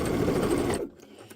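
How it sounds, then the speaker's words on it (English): Sewing machine back tacking a seam on a quilt block pillow, a close rapid needle chatter for under a second that stops abruptly, followed by faint handling clicks. "So I'm just going to do some back tacking right there."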